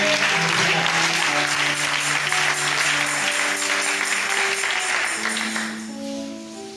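A church congregation bursts into sustained, dense applause and cheering acclaiming God after a sermon, loud and continuous with the crowd noise tapering slightly toward the end.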